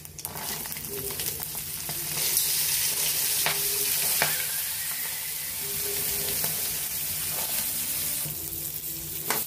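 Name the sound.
corn being stirred and sizzling in hot oil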